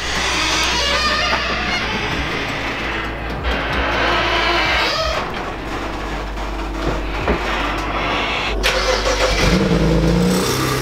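A car engine runs steadily outside a garage on a cold, snowy day as the car is moved around, a loud continuous rumble with a few rises, no talk over it.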